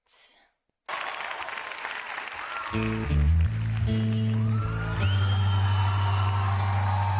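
A concert crowd cheers and whoops at a live unplugged show, then drums and bass come in beneath the noise, which keeps up through the whole stretch after a brief silent gap.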